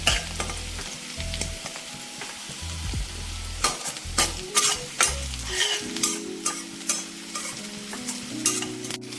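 Dried prawns fry for a gongura curry, hissing and crackling close up while a spatula scrapes the pan in steady repeated strokes, with no voices.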